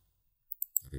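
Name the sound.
keyboard or mouse click saving and refreshing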